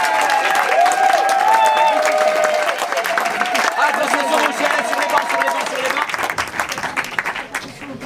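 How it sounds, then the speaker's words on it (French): A crowd at an improv comedy show keeps up loud, continuous applause from start to finish, with some cheering mixed in before it thins slightly toward the end. "applaudissements, s'il vous plaît!"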